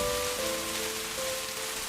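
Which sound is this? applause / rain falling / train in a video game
rain falling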